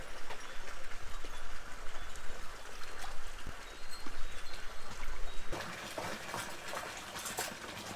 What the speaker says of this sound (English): Got a full-on river.